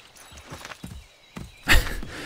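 Horse hooves in the video game Assassin's Creed III clop in an uneven walking rhythm, a few soft hits building to a louder thud, close and without speech.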